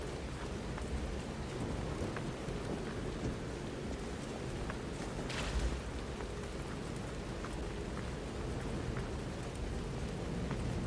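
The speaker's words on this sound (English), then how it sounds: "The heavy rain, the thunder in the background and stuff." Steady heavy rain pours in the video game Lies of P, a dense constant hiss throughout, with a low rumble of thunder swelling briefly in the middle.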